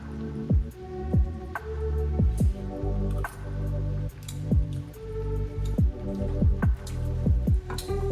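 Liquid drains from a bowl of sautéed mushrooms, heard as close wet drips, squelches and pours in uneven bursts with short pauses.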